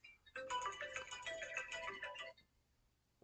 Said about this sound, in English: phone call coming in.